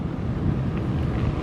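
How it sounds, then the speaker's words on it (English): Steady, full-band wind rush buffets the microphone while a bike rolls freely downhill on a mountain road past farmland, loud and continuous throughout with no voices. "Enjoy the wind, driving wind."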